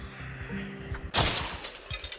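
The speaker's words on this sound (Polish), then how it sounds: "nie chciałam sensie rozbić okna" A window smashes in the Project Zomboid video game, a sudden sharp crash of shattering glass over a low steady game hum, with scattered tinkling afterward.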